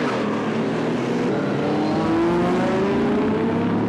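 An Aston Martin DB4 Vantage race car engine drones steadily and loudly, its pitch slowly climbing as it accelerates, with no talking.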